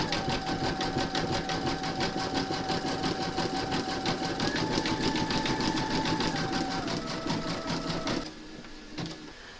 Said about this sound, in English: then you're going to stitch round number 10, and that's going to zigzag at the edges